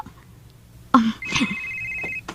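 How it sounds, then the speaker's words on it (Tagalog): Incoming phone call in a Cebuano radio drama, a short ringtone-like electronic ring with a sustained tone, brief and fairly close, with no one talking over it. "Uy, si Feby maning nanawag na ako"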